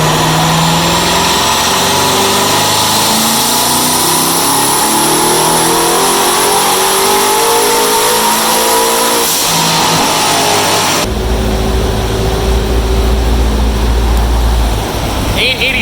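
A twin-turbo Corvette C7 revs hard on a dyno. The loud, continuous engine note climbs steadily in pitch, then abruptly shifts to a deeper, rougher roar.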